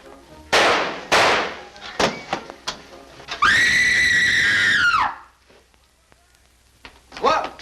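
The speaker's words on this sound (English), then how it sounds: "Who screamed?" Scream in a 1945 film: after a few sharp thumps and bangs, a woman's long, piercing, high scream rings out for over a second and a half, loud and close, then quiet and a brief voice.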